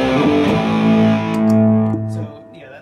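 Electric guitar driven through two stacked overdrive pedals, a sustained crunchy chord ringing loud and steady before decaying, with some pick noise and no talking.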